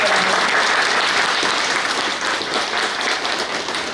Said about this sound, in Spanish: un fuerte aplauso para nuestra Madre de la Virgen